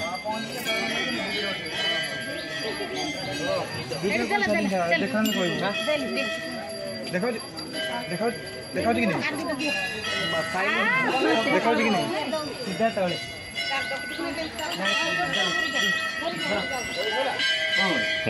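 Temple bell at Maa Ghanteswari temple ringing repeatedly with bright metallic tones over a crowd's chatter and babble, sustained throughout amid a busy gathering.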